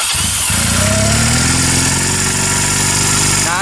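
A Harley motorcycle engine starts and settles into a loud, steady rumbling idle close by, with no talk over it.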